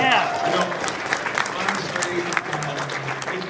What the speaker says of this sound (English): Round of applause for money.